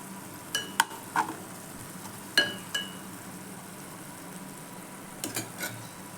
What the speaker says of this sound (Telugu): ఇప్పుడు దీంట్లో టమాటా వేసుకుందాం.